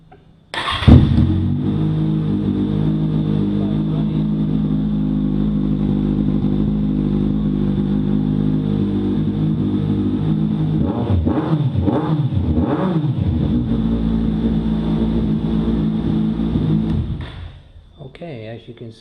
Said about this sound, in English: as you can see, the bike starts and runs